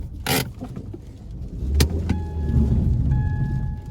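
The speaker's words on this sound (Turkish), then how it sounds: "Araba olduğu yerde patinaj atıyor." A Ford Focus 1.6 with 115 hp strains on a muddy mountain road, its engine droning and wheels spinning in place. Sharp knocks and a thin whine rise over the rumble.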